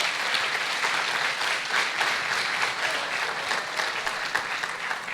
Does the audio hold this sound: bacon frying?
no